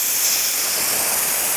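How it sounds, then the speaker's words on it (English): Compressed air blasts in a loud, steady, broadband hiss from a nozzle pushed under a custom motorcycle handlebar grip on a Harley-Davidson to slide it on, close and continuous without pause. "Turn on your air compressor."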